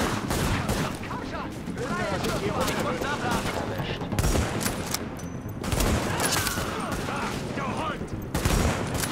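Rapid bursts of rifle and machine-gun fire in The Division on PS4, with a carbine being used for headshots. Loud, dense volleys repeat in waves, and someone talks between the shots.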